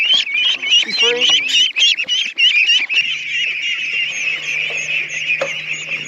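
Flock of ducklings in a farm setting, a dense run of overlapping high calls and quacks, busy and close at first, then thinning to steadier chatter over a low background hum.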